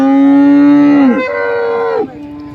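A dairy cow at the Chalisgaon cattle market gives a loud, close moo, holding one long note that bends downward before a second, shorter falling call.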